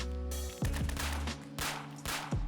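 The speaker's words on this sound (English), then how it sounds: "And just listen to the gunshots, see what guns they bring, see how many of them there are." Gunfire in the survival video game Fallen Survival on an island: several sharp shots crack out in quick succession, close and loud, with brief gaps between bursts.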